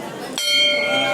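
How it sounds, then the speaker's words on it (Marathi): A temple bell is struck once, its bright metallic ring sustaining with clear overtones after a sharp attack, close to the listener amid light background murmur. "इथे घंटी वाजवणार आहे."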